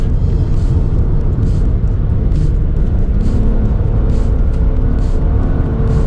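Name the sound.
Acura Type S car engine revving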